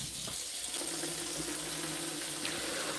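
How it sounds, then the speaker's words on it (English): Cold water runs steadily from a kitchen tap onto leafy vegetables being washed for juicing. It makes a constant close splashing hiss with faint shifting tones as the leaves move under the stream. "And I wash with cold water because I want to maintain all the nutrients."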